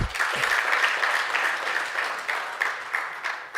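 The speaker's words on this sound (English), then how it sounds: "Let's give him another round of applause." Colleagues at a research outputs workshop give a round of applause, a full, even patter of many hands at moderate distance that loosens into a few separate claps as it tapers.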